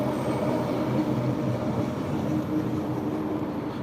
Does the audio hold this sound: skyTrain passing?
yes